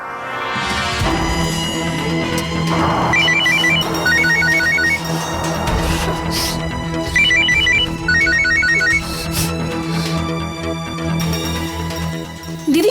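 A mobile phone ringtone rings on unanswered, its bright repeating melodic chime phrases recurring in bursts over a steady musical backing, loud and close with no voices.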